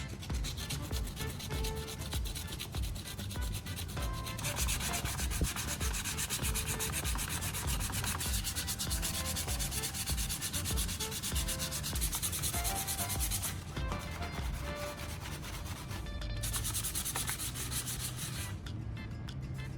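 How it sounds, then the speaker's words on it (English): Sandpaper rubbed back and forth over a plastic surface wetted with multi-purpose oil, a close, continuous scratchy rasp with brief pauses, no talking. "This helps the sandpaper glide smoothly, reduces scratches, and creates a more even, flat surface."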